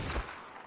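A single muffled gunshot thumps once in Ark: Survival Evolved, a short, low, quiet burst that fades quickly into faint background noise.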